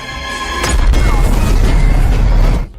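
A gunshot ignites an oil pit in a film scene, setting off a loud, booming explosion that swells and rumbles for a couple of seconds before cutting off abruptly.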